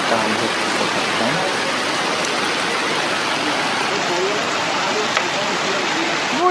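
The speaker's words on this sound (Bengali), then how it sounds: "হঠাৎ করে প্রচুর পরিমাণ বৃষ্টি নামলো" Heavy rain pours steadily on St. Martin's Island during a cyclone, heard from a shop used as shelter. It makes a dense, even roar with no letup throughout.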